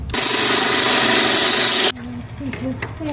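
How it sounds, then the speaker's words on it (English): A loud, steady whine of a power drill drilling holes while fitting out a van, running for about two seconds, then stopping abruptly, followed by quieter background sounds and brief voices. "One more hole to drill."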